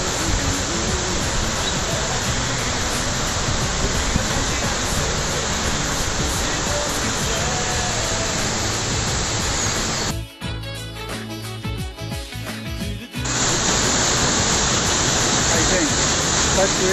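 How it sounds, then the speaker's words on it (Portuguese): Cachoeira Vermelha waterfall near Rio Preto, Minas Gerais, roars as a steady, loud broadband wash of heavy falling water, briefly dipping quieter for a few seconds midway before returning full force. "Cachoeira Vermelha, como você nunca viu antes."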